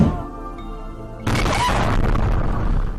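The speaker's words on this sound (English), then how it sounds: "A suspected gas leak caused an explosion at a restaurant in China's northern province of Hebei" Suspected gas leak explosion at a restaurant in Hebei province, China: a quieter rumbling stretch, then a sudden loud boom that breaks into sustained crashing, rattling debris noise until the end.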